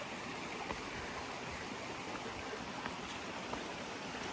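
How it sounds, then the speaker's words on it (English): A small waterfall cascading over rocks gives a steady, dense rush of water that stays constant throughout, with no voices. "Oh yeah, more waterfalls."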